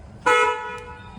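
A single car horn blares sharply and close, holding a steady tone for about a second over a low idling background.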